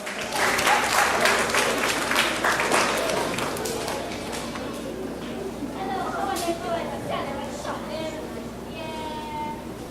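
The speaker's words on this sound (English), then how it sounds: "A nice round of applause." An audience applauds the 1st St Joseph Village Cub Pack at a Blessing of the Creche event, loud sustained clapping that slowly tapers off under crowd chatter and voices.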